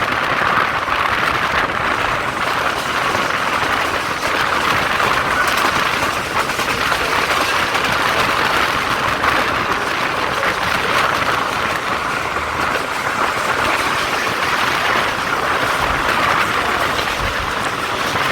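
An express passenger train, the Jaffar Express, speeds through Muridke railway station in Pakistan, a steady, continuous rumble and rushing roar held at even loudness throughout, with no voices.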